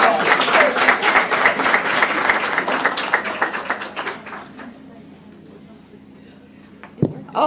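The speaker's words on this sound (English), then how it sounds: "give her another round of applause" Applause at a Southfield Public Schools board meeting, many hands clapping loudly and densely for about four seconds, then thinning to scattered claps and fading, with a sharp knock near the end.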